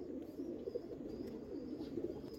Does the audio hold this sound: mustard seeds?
no